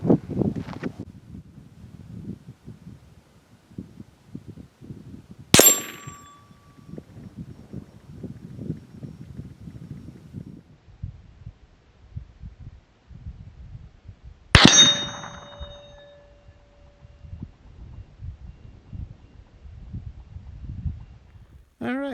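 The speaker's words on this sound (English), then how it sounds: "Getting ready to shoot this steel spinner target. The distance will be 100 yards." Two sharp metallic clangs ring out from a steel spinner target struck by 22 mag 40 grain total metal jacket rounds at 100 yards, spaced several seconds apart over soft wind and rustling outdoors.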